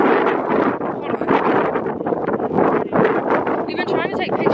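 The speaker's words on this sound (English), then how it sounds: "We've been trying to take pictures, but we can't because it's literally so windy" Strong outdoor wind buffets the microphone in a constant, loud rumbling roar while people talk over it.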